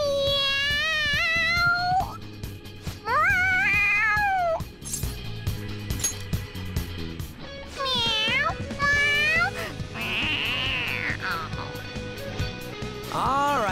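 An excited cat meows repeatedly in a Persona 5 game cutscene, a string of rising, wavering cries that stop and start over a steady musical backdrop.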